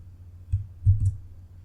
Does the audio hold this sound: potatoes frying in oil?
no